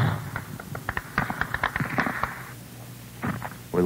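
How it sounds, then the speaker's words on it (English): Rifle fire from Viet Cong fighters around a village: a series of sharp cracks and pops at moderate distance, irregular and clustered, followed by a few more shots near the end. "All you can do is hear the bullets as they come at you."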